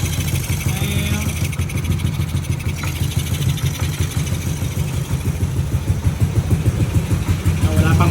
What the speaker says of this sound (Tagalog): Running tayo, stock ECU. Medyo mababa yung idle natin.